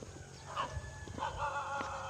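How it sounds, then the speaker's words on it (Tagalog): Several dogs bark in short bursts at a rural spot where ducks are herded, with overlapping yaps near and farther off over steady outdoor background noise. "Ang daming aso dito mga boss."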